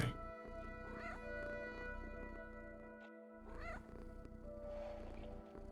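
A cat meows twice in the sci-fi video game Mayak, short rising calls heard close over a steady, humming musical game backdrop.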